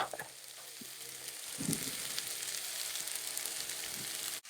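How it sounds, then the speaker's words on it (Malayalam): Green banana peel sizzles steadily in hot oil just after mustard seeds have popped, for a Kerala-style thoran, with a few stirring scrapes partway through and no talking. "കടുകൊക്കെ പൊട്ടിക്കഴിഞ്ഞപ്പം നമ്മുടെ കായുടെ തൊലി ഇട്ടു, പച്ചവാഴക്കയുടെ തൊലി"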